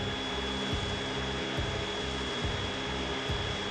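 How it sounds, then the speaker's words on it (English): A belt sander grinding knife scales down to final thickness: a steady motor whine with a rhythmic rasp as the workpiece passes over the belt, cycling roughly every second, close and continuous with no talk. "Now it's time to belt sand the scales down to final thickness."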